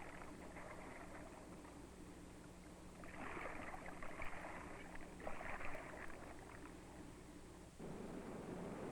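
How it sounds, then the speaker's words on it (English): Waves breaking in shallow water, shown in a 1965 film on waves and a test tank: a steady wash of surf with two louder surges of breaking water, then a lower rumbling wash near the end. "The result is that the crests of the waves pitch forward and break."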